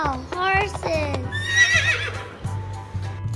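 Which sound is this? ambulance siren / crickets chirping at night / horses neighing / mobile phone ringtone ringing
horses neighing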